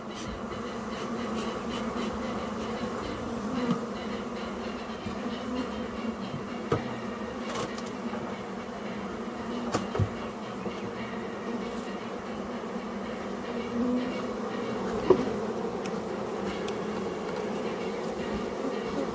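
Honey bees hum and buzz densely around hive frames as old frames are cycled out, a steady close drone with occasional soft knocks and handling clicks, no talk.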